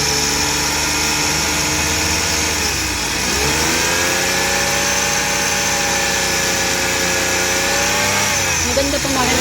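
A Suzuki DA64W turbo car engine runs steadily and loudly, idling with a slight rise and dip in revs partway through, filling the whole stretch.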